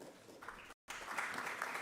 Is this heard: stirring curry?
no